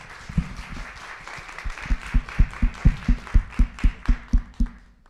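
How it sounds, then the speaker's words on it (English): An audience claps together at a pitch event, a steady run of about a dozen sharp, loud, evenly spaced claps that fade out at the end. "join me in a round of applause for Dean Strauser"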